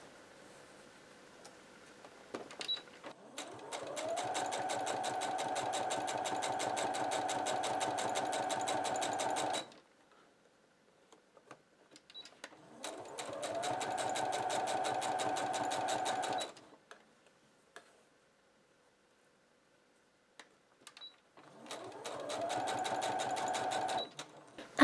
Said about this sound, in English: Put a couple of stitches through the bias binding and the flag.